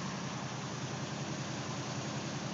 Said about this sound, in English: Still cold, so the valves are clattering just a touch.